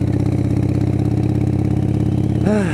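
A Harley-Davidson Sportster 72 motorcycle idles in Bakersfield, a loud, even, rapid engine chug close by that holds steady throughout, with a brief rising tone near the end.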